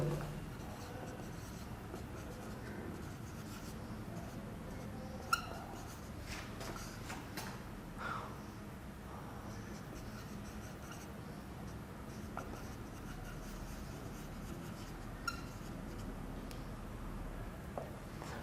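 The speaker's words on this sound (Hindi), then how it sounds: "जिस तरह एक मैं सेंटेंस यहां पर लिखता हूं" Chalk or marker writing a sentence on a classroom board during an English punctuation lesson, soft scratchy strokes with occasional taps, faint and close against a quiet room hum.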